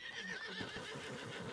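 A horse whinnies in a Red Dead roleplay game, one rising, wavering neigh with a few soft hoof clops, fairly close and heard alone.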